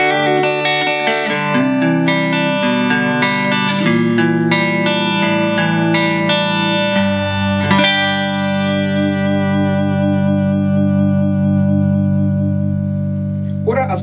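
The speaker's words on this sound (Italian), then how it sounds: "Sentiamola con il pick-up al manico." A Masotti M1 electric guitar on its neck pickup plays a run of sustained, warm notes with a chorus-like shimmer and echo, then rings out on a long held chord.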